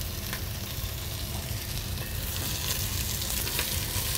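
Food fries and sizzles in a pan in a Zamora-style restaurant kitchen, pieces left to soften and brown before stock is added, a steady close crackling hiss throughout with no talk.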